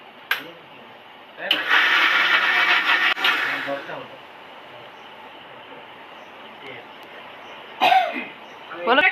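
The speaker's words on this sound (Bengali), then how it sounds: "এবার এই পেস্টটা করে নিই, একবার মিক্সটা ঘুরিয়ে নিচ্ছি।" A mixer grinder whirs for about two and a half seconds while grinding a spice paste for Kashmiri dum aloo, a bright, loud electric buzz that cuts off abruptly, framed by brief coughing and throat clearing.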